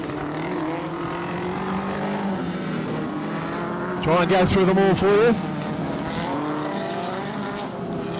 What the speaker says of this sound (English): The 53 car out there is a little compact Yamaha YZF1000 motor in that.